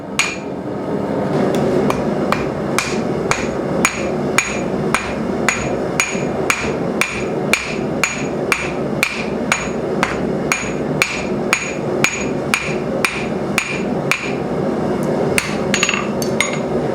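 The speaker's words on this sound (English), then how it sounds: "Just bringing this over to the anvil, using the side of the anvil, and forging down a taper." A blacksmith hammers hot steel on the side of an anvil to forge a taper, with a steady, even run of sharp ringing metallic strikes, close and loud, for the whole stretch.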